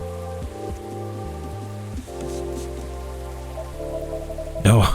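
Rain in the video game Coffee Talk 2 patters steadily beneath soft layered game music, a continuous gentle wash that swells near the end.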